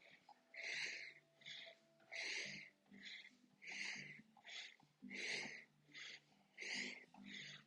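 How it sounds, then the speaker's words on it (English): Rhythmic bursts of breath of fire yoga breathing, sharp pumped exhalations from the belly repeating in a steady pulse, close and fairly soft, with no talking. "use that little gentle belly breath, that gentle breath of fire"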